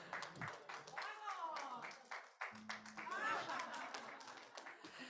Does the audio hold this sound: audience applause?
yes